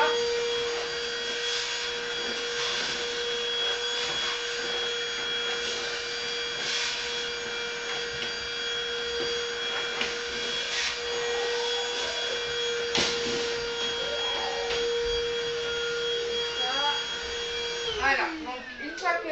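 A cordless vacuum cleaner runs with a steady, loud whine alongside rubbing and knocking noises, then winds down near the end.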